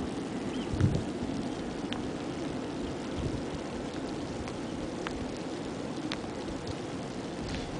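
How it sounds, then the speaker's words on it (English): Rain falls steadily onto water at a New Zealand beach, a soft, even hiss with scattered drops and a faint low rumble, no voices. "as the rain falls on the water"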